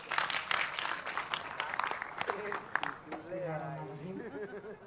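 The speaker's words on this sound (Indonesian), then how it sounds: "Tepuk tangan semua." Audience applause at an Indonesian community gathering, a steady wash of clapping from a crowd with voices and speech-like tones rising over it in the latter half.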